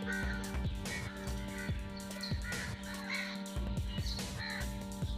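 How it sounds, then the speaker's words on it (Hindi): Birds call from the trees on a village farm, with loud, repeated crow-like caws and chirps over a steady background hum. "परिंदों की चहचहाट बहुत ही अच्छी लग रही है"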